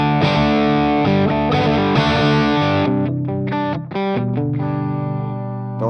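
Electric guitar played through a Cachalote Console preamp set for a Vox-style treble-boosted tone, loud and driven with sustained, ringing chords and a few brief breaks, alone with no talk.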